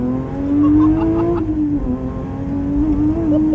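Porsche GT3 race car engine on the move, a loud close tonal drone that rises as it revs, dips briefly, then holds steady, with no talking over it.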